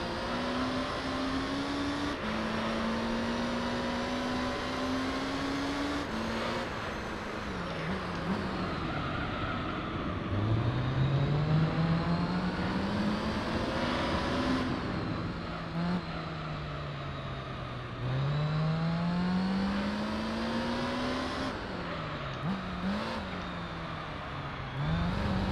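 Race car engine in Gran Turismo 3 on the Special Stage Route 11 endurance race, revving loudly and continuously with repeated rising pitch sweeps through gear changes and dips at corners, with no talking over it.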